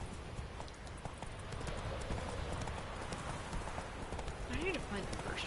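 Horse Roach galloping in The Witcher 3, steady rapid hoofbeats continuing for several seconds, with game ambience and a voice alongside.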